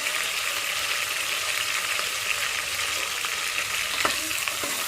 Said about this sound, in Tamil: கருவேப்பிலை போட்டுக்கோங்க. புதினா இலை, காரத்துக்கு தகுந்த மாதிரி வரமிளகாய்